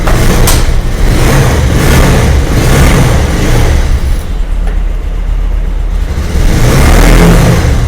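A 2022 motorcycle engine runs loudly and steadily throughout, with a low rumbling drone and slight revving swells, no voices over it.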